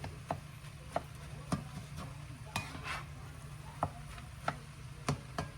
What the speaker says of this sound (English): just make sure you chop your eggs up real good